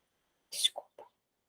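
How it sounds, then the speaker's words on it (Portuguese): A single quick sneeze bursts out close and fairly quiet, a sharp hiss followed by two short voiced tails, from a lecturer during a law class. "Vou espirrar."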